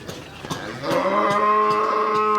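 A dairy cow with an eight-day-old calf lets out a long, loud, close moo that starts with short grunts and swells into a steady sustained low call.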